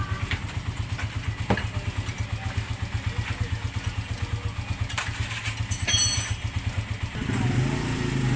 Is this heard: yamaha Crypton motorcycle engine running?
yes